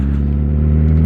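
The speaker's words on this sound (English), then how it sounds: "I'm currently riding this bike to get it inspected so I can sell it." Motorbike being ridden to an inspection after a full rebuild, its engine droning as a steady low-pitched hum with rich harmonics, close and loud throughout the short moment with no speech.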